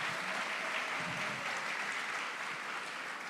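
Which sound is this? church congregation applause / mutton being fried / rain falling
church congregation applause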